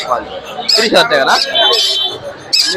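A tame talking pet bird, a five-month-old male, at the Mirpur-1 bird market in Dhaka gives short squawks and chirpy, voice-like calls, close to the microphone, over a babble of people talking nearby.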